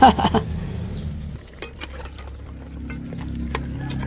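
Ginger and annatto are sautéed in a pan for balbacua, a dish of cow skin and feet. A steady low sizzle runs throughout, broken by sharp utensil clinks and scrapes against the pan. A loud clatter comes at the start.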